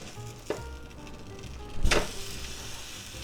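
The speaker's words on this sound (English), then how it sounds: "let that cook a little bit" Egg, cheese and sausage quesadilla frying in a covered pan, a soft steady sizzle with a couple of brief clatters of cookware, fairly quiet and without speech.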